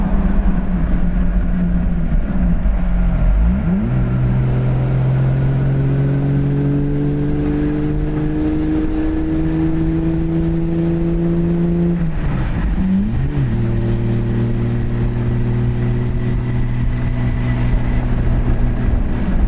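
A 1960 Jaguar XK150-S fixed-head coupe with its 3.8-litre straight-six, heard close from onboard as it pulls through the gears, engine note climbing steadily, dipping briefly at each shift and rising again.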